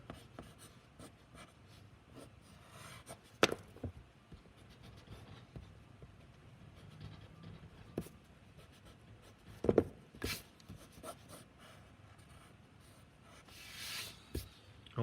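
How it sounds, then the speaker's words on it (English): Pencil lines on drawing paper are erased in a hand-drawing art lesson: faint, intermittent rubbing strokes with a few sharper scuffs and bursts, heard close up in a quiet room. "I'm going to erase some of this so you can see it a little bit better"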